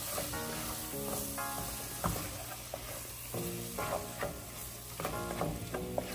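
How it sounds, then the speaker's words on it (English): Whole allspice berries stirred in a cooking pot for a rundown sauce, with continuous frying sizzle and repeated clattering, scraping spoon strokes against the pot, close and fairly quiet, no talking. "Stir, stir, stir."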